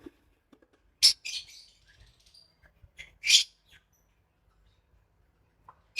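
Albino red-eye lovebirds in a breeding setup give a few short, bright chirps in separate bursts, with quiet gaps between calls.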